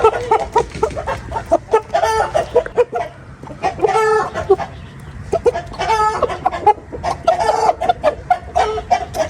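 A rooster clucks and calls repeatedly at close range, with short, sharp bursts and a few longer crowing-like cries in an uneven rhythm, with no talking.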